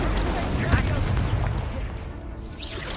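Incendio fire spell cast in Hogwarts Legacy, a loud whooshing burst with booming low rumble and crackle, sustained for a couple of seconds before tapering, with game voice chatter mixed underneath.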